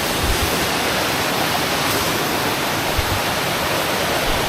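A Thai waterfall roars with dense, steady rushing water, loud and close, an unbroken wash of spray that continues without pause.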